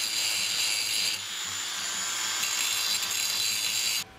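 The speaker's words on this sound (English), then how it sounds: "let's grind it and see how we did." Grinder working over a freshly welded metal joint, a steady loud hissing whine running continuously for about four seconds, close by, with a slight dip partway through before it cuts off.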